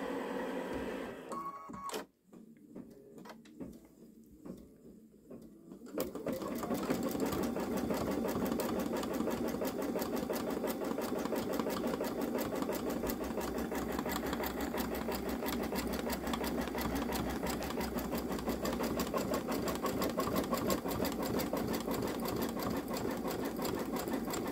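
Baby Lock Solaris Vision embroidery machine stitching out a hummingbird design, a steady rapid mechanical chatter that starts after a few seconds of quieter handling and runs on continuously, no one speaking.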